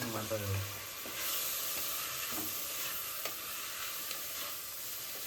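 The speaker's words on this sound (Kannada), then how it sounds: "ಈಗ ಮಶ್ರೂಮ್ ಹಾಕ್ಕೊತಾ ಇದ್ದೀನಿ, ಅದನ್ನು ಚೆನ್ನಾಗಿ ಹಾಕಿಬಿಟ್ಟು ಫ್ರೈ ಮಾಡ್ಕೊಳ್ಳಿ." Mushrooms fry in a pan for a mushroom biryani, giving a soft, steady sizzle broken by several scraping stirs, close but quiet, with a brief voice at the start.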